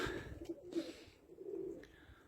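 Istanbul pigeons cooing on the ground after landing while being fed, soft, low, throaty coos repeating several times close by over a quiet outdoor background.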